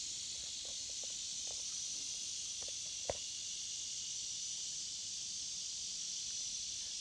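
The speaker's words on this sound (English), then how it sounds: "you're completely inundated with the sounds of cicadas and crickets" Steady, dense high-pitched buzzing of cicadas and crickets on the Choctawhatchee River fills the air continuously, with a few faint scattered clicks and one brief tap.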